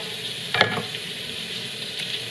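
Coarsely chopped onions sizzle steadily in a hot pan, with a brief scrape and clatter of stirring near the start and another light knock later, no voices.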